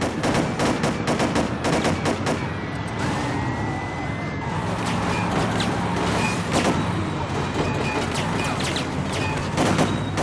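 Dense gunfire rattles in rapid bursts from heavy weapons during a getaway in Driver: Parallel Lines, over engine noise and street commotion, with shots near and loud throughout.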